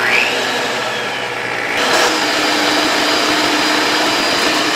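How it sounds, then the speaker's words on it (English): An electric mixer runs at medium speed, beating egg whites toward soft peaks for a Depression-era wind cake, a loud, steady motor whine that shifts pitch briefly before settling into a constant drone. "will beat them with an electric mixer at medium speed until soft peaks form"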